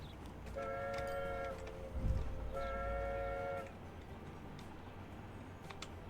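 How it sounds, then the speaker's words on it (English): Trains running in Transport Fever 2 on a coastal line, with two steady two-tone horn blasts over a low rolling rumble and soft ticking clicks from the game. "Many trains."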